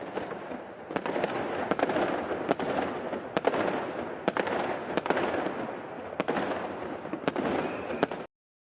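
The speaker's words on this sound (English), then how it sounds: "No, we have a bit of a quick firework break for Yuli." Fireworks go off outdoors in a rapid irregular series of sharp cracks and pops roughly every half second to second, over a dense rumbling crackle, loud and continuous without speech.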